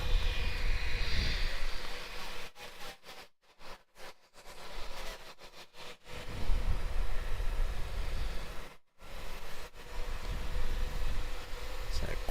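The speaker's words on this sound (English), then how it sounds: "Next departure off 27 looks like it'll be Qantas 622 heading up to Brisbane." A Qantas jet airliner departs runway 27 at Melbourne Airport, its engine roar a broad, steady rumble from the distance, with a voice talking over it.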